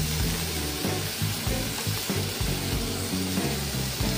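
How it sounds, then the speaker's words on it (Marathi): Pineapple pieces fry in melted butter in a pan, giving a steady, dense sizzle that runs unbroken throughout. It is close and loud, with no talking over it. "बटर घातल्यानंतर यावर आपण आता हे तुकडे छान फ्राय करून घेत आहोत।"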